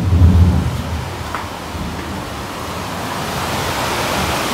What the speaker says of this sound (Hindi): ये देखो कितनी बारिश हो रही है, मज़ा आ रहा है। बहुत तेज बारिश है।